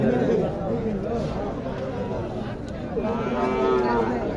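Sahiwal heifer cattle moo at Mahadevpur cattle market in Naogaon, with a drawn-out low moo rising near the end above constant crowd chatter and people talking close by.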